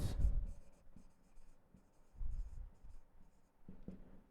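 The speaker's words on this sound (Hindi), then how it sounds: "सबसे पहले हम नेचुरल नंबर्स लिख के लेंगे।" Pen strokes scratch out natural numbers on paper during a Class 6 maths lesson on fractions: faint, close scratching comes in short bursts with pauses between.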